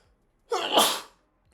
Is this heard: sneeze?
yes